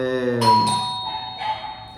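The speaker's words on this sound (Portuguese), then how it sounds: "campainha, já vou lá" A doorbell gives a ringing two-note chime, struck twice in quick succession and again about a second later. It is moderately close and clear, following a brief voiced sound at the start.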